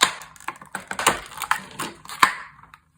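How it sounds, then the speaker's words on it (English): A Nintendo amiibo figure is worked out of its plastic blister packaging with a string of close, sharp crinkles and snaps of varying loudness that end abruptly in silence. "It's probably one of my favorite parts of taking the amiibo out of their box."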